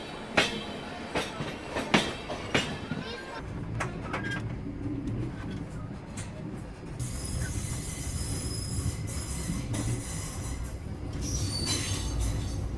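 The Nagercoil Express rolls past with rhythmic wheel clatter, then a long, loud squeal of wheels on rail and steady rumbling carriages, with faint birdsong in the background.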